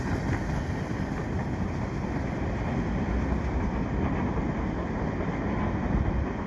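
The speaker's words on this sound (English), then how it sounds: "That's the end of the train right there." The tail end of a CP freight train rolls through Dorval, Montreal, in winter, a steady, close rumble of wheels and cars that holds evenly throughout.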